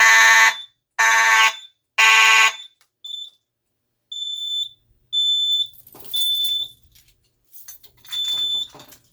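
An Edwards FireShield Plus fire alarm horn blasts three loud, harsh bursts up close during a test, then drops to a series of shrill, high-pitched electronic beeps with brief gaps between them.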